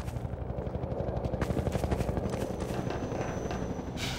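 A helicopter in the video game Half-Life 2 gives a loud, steady rotor thrum with rapid rhythmic chopping, mixed with bursts of gunfire-like clatter and a rushing wash of noise.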